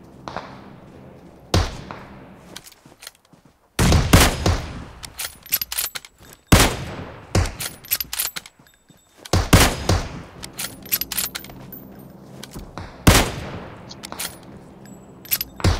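Loud, widely spaced gunshots from PUBG Mobile, single sharp cracks with ringing tails and a few quick follow-up shots, heard close with no talk.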